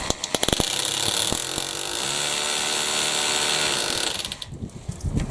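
A power drill whirs steadily into a brick wall for a few seconds, then winds down, with clicks and knocks before and after.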